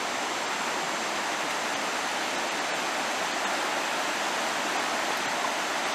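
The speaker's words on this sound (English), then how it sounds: "the Kiski River turns into rapids in this section" Rushing rapids on the Kiski River beside a trail, a steady broadband roar of churning water that holds an even level throughout with no pauses.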